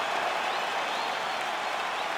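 A UFC 5 arena crowd gives a short, steady wash of cheering and applause, even and moderately loud throughout.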